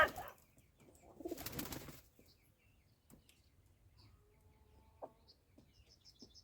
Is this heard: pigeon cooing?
yes